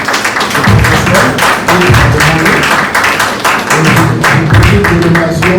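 Audience in a hall applauding a professor's arrival at a Congolese gathering, sustained dense clapping that swells and continues steadily from start to finish, loud and close.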